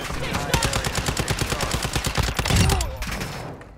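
Rapid automatic gunfire in the video game DMZ, a dense run of sharp shots firing in quick bursts at close range, with a louder blast near the end.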